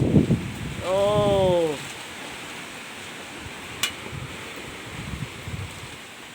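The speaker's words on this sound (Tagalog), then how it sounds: "Lakas ng hangin. Super lakas." Gusty wind roars steadily across the microphone, with a brief spoken exclamation near the start and a few soft knocks later.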